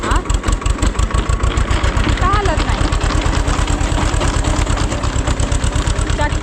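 A nearby tractor's diesel engine idles with a fast, steady low chugging throb, loud and even throughout, while a person speaks over it.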